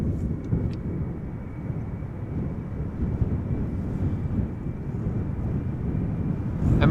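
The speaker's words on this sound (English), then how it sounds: "Embraer 190 to London City coming this way" A KLM Embraer 190 airliner, about eleven years old and bound for London City, departs Amsterdam Schiphol with a steady, heavy low engine roar that holds constant throughout, mixed with some wind rumble.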